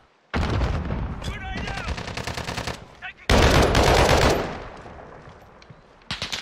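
Rapid automatic gunfire bursts from the Modern Warfare video game, loud and close, with a pause and then a second heavy volley that decays, followed by scattered shots near the end.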